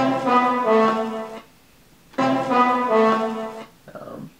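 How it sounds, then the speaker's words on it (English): Marching band music from a classical record, played at its original pitch: two sustained brassy, harmonic-rich phrases with a short pause between them, then a brief fainter fragment, heard alone without talk. "The original pitch of that sound was from some kind of marching"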